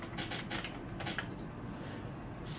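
Quick bursts of mechanical key strikes, a manual typewriter sound effect played from a Microsoft Natural Keyboard, clacking in an uneven rhythm, followed by a brighter metallic ring at the end, close and clear.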